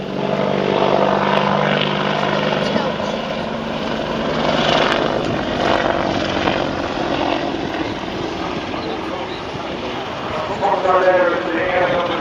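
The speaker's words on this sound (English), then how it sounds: "the agile display for the British Army's attack helicopter, the Apache." A British Army Apache attack helicopter flying a display at an airshow, its steady rotor and engine roar continuous and fairly loud throughout, with crowd noise underneath.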